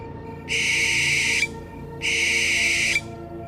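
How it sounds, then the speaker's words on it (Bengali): An owl hoots harshly from a bamboo grove at night in a horror story, giving two long, loud, shrill calls of about a second each, separated by a short pause. "বাঁশ গাছ থেকে একটা পেঁচা কর্কশ গলায় ডেকে ওঠে"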